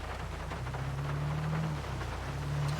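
Steady rain falls in the GTA V police mod LSPDFR, a constant broadband hiss with a low engine-like hum underneath, no talk.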